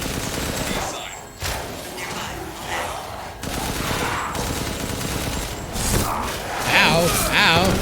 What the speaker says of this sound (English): Oh my lord, so many bullets.